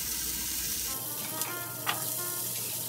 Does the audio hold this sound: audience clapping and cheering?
no